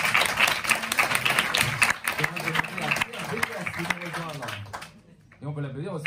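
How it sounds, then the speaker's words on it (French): A studio audience applauds volunteer Anne-Céline during a special Radio Don 2019 fundraising broadcast, a dense patter of clapping over the first couple of seconds that gives way to someone talking. "Et on l'applaudit Anne-Céline"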